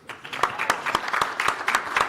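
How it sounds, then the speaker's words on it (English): A small audience in a conference room at an agri-food value chain panel applauds warmly, steady clapping with distinct sharp claps standing out, moderately near, no talk over it. "just a warm round of applause for the people in the room"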